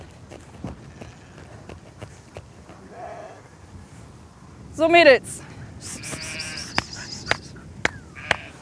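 Sheep bleat on a coastal pasture at Vollerwiek, with a loud close call mid-clip and more bleats after, over faint hoof and farm sounds while someone speaks briefly.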